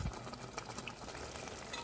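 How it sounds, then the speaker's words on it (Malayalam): Fish curry boils in a pot with a faint, steady bubbling simmer, heard alone at low volume. "ഇതിപ്പോൾ ഇവിടെ നന്നായിട്ട് തിളച്ചിട്ടുണ്ട്"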